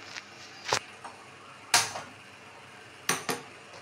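A metal kadai set down on a stove before cooking chilli paneer and broccoli: a few sharp, close metallic clanks and knocks spaced across a few seconds in a quiet kitchen.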